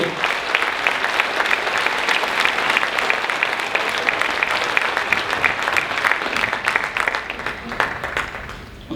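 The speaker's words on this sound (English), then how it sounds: "One more round of applause for Wayne Mitchell." Sustained applause from a banquet audience at an annual membership meeting, honoring Wayne Mitchell; dense, steady clapping fills the room for the whole stretch with no voices on top.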